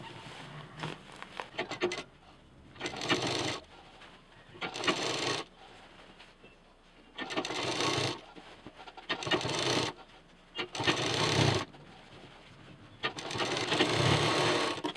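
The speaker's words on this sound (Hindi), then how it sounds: "एक एक फ्रिल देते जाएंगे और सिलते जाएंगे" Sewing machine stitching fabric frills onto a decorative gas cylinder cover, close rhythmic bursts of whirring stitches a few seconds long separated by brief pauses, with no talk.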